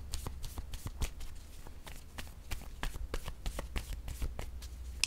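A deck of tarot cards being shuffled up close, a steady run of crisp riffling flicks and slaps over several seconds, with faint background hum and no talking.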